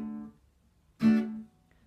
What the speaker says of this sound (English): You try to mute it by lifting the fingers a little bit above the fretboard,